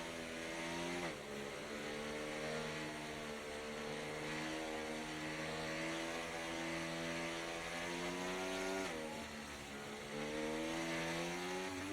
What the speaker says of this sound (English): The safety car will come in. And we will once again go racing.